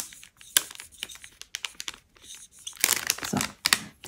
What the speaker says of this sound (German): Der Stift hat auch wieder ganz tolle Geräusche gemacht.